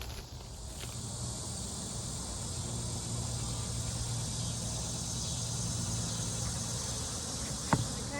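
Honeybees buzz steadily as they are shaken from their box onto a solid bottom board of a beehive, a dense, even hum at moderate level broken by one brief sharp click near the end.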